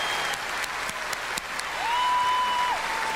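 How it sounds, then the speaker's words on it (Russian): Concert audience applauding, a dense steady roar of many hands with a few sharper claps, while a sustained clear tone rises and holds above it. "Аплодисменты!"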